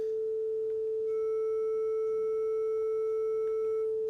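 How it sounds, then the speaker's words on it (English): Two identical 440 Hz sine tones sounding together in phase, a pure steady hum with no beating, quiet and continuous for about four seconds over faint background noise. "I'm going to play another sound with the same exact frequency, so they are perfectly in phase"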